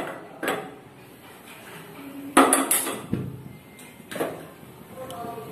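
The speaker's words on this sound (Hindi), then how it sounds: "गैस पे एक पैन रखेंगे।" A pan goes onto a gas stove with a few sharp metallic clanks and scrapes, the loudest cluster partway through and a softer knock later, over quiet kitchen background with faint speech.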